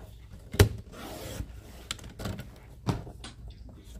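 A paper trimmer slices a long strip of paper at a half-inch width. One sharp snapping cut comes first, followed by quieter scraping and sliding of the blade and paper, with a few softer clicks.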